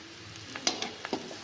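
Onions frying in a pan, with a soft sizzle and a few light stirring clicks and scrapes, heard up close, brief and faint, with no voices.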